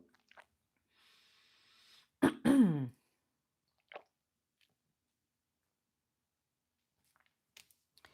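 One brief, rough throat clearing close by, followed by faint small clicks and near silence.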